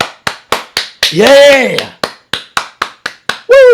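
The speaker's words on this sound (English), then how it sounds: "That deserves a fucking clap." Hands clapping in a steady sharp rhythm, about a dozen close claps, broken partway by a loud shout and ending with another yell.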